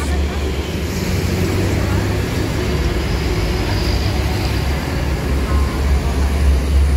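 A coach bus engine idles at a terminal ticket office in Pekanbaru as passengers board before departure, a steady low rumble filling the background with faint voices over it.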